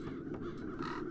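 Crows caw in the video game The Dark Eye: Chains of Satinav, with harsh calls close and clear over a low ambient rumble across about a second, no voices.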